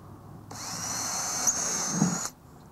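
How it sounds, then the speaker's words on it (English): A power drill with a 1/2-inch bit boring drainage holes in the bottom of a planter pot, one steady high whine lasting close to two seconds, close and fairly loud, then stopping abruptly. "I've used a 1/2-inch drill bit here to make several holes in the bottom of this pot."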